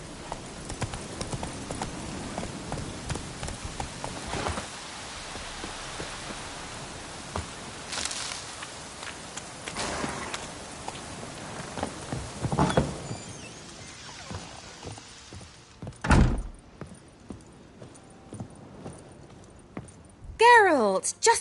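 Horse galloping in The Witcher III, rapid rhythmic clip-clop hoofbeats at close range that fade and thin out near the end, with a voice coming in briefly.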